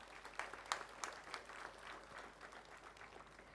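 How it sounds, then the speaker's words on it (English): Applause from graduates at a 2022 college graduation ceremony, a fairly faint, scattered patter of claps with a few sharper hand strikes, spread across a hall and fading slightly toward the end. "I think you need to give a clap for yourself."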